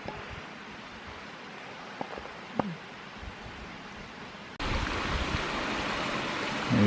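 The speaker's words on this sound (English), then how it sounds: "Here's the falls." Waterfall at a beaver dam on a lake in Killarney, heard on a spring canoe trip: a steady broadband rush that grows noticeably louder and closer partway through, with no talking.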